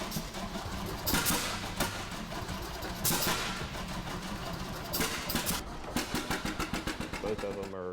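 An old tractor engine runs with a rough, uneven chug, surging louder at moments and settling into a rapid rhythmic putter near the end.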